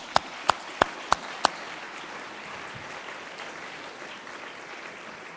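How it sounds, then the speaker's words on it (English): At a fundraising gala, an audience claps for donors. Five sharp, close handclaps ring out at the start, then a softer, diffuse wash of clapping continues through the rest. "Let's please give them a round of applause."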